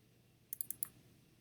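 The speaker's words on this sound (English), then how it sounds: "So I'm going to double click" Computer mouse clicking during a software download on a computer: two quick double clicks, four crisp, close clicks in all, over a quiet room hum.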